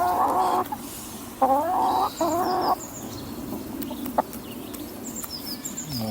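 Chickens in a garden cluck and squawk close by in short bursts, with a few higher chirps and peeps scattered among the calls and no one speaking.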